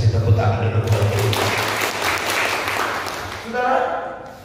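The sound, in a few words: congregation applauding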